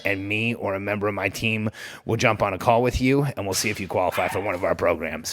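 Dogs barking and yipping in the background of a room while a person keeps talking over them, the barks mostly buried under the voice.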